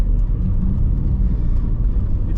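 A 1996 VW Passat Syncro B4 with a 116 horsepower engine and four-wheel drive, heard from inside while driving: a steady low engine rumble and road drone, slightly uneven as it nearly stalls.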